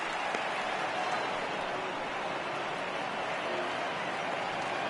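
A baseball stadium crowd of over 39,000 on its feet for a final strike in a Blue Jays–Nationals game, a steady dense wash of cheering and applause that holds at an even level throughout.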